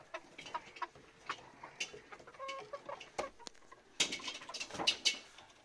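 Chickens cluck and squawk in a farmyard, including a black hen, with irregular close calls building into a louder, busier burst of clucking toward the end.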